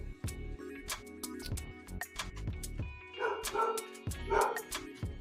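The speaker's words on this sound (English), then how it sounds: "what that dog barking about?" A dog barking repeatedly in a rapid, uneven series of sharp barks and yips, fairly close, with no talk over it.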